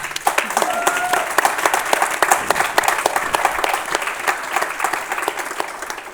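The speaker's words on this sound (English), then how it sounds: "we've got a round of applause" An audience breaks into steady, dense applause throughout, many hands clapping together at an even level for several seconds without letting up.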